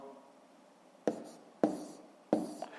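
A pen scratches digits onto paper during a fifth-grade maths subtraction exercise, in three short bursts of strokes separated by pauses, close and fairly quiet over a faint background hiss.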